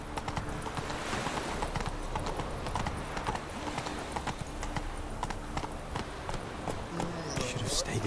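Roach, a horse in the video game Witcher 3, gallops with quick, rhythmic clip-clopping hooves close by, steady throughout, with game voices and background sounds mixed in.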